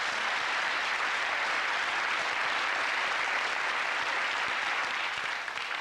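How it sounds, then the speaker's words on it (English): A game show studio audience applauds in a dense, steady wash of clapping that stays loud and unbroken throughout, with no talk. "the applause is coming for 11 points"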